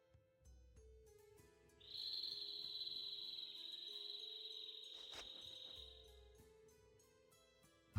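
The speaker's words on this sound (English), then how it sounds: "A bird? In this desert? It sounds close." A bird calls in a desert in the role-playing game Tales of Vesperia: a long, steady, high-pitched cry held for several seconds, set against a faint ambient music bed.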